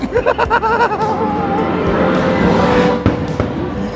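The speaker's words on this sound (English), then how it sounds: "Fireworks show is still going." Fireworks burst during a show at Disney's Magic Kingdom, with several sharp pops and bangs over a steady crowd murmur, while people nearby talk and laugh.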